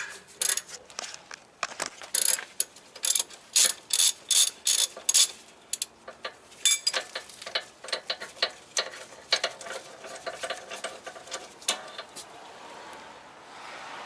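Ratchet wrench turning the screw that separates the strut from the fork on a Honda Accord, bursts of rapid clicking pawl ticks in repeated strokes with short pauses, close and crisp, no talk.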